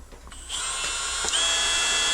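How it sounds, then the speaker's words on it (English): Small pilot drill spins up and bores a hole, a steady high-pitched whine that starts after a few clicks and holds loud and close to the end. "So this is what we call a pilot drill. I pilot with a small hole first."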